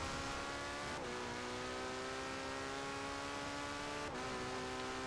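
Car engine revving hard at high speed in Forza Horizon 4, a continuous loud droning whine that dips briefly at two gear shifts and then climbs again, with no talking.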